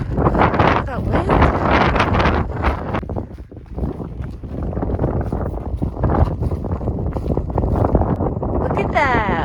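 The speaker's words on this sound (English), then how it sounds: "The wind up here is real." Strong wind buffets the microphone on a high mountain pass along the Continental Divide in Colorado's Indian Peaks Wilderness, a loud, steady roar with gusty surges throughout, mixed with a voice.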